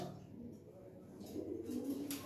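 Military and Homer pigeons coo softly and close by in a group, a low murmuring coo over a faint background.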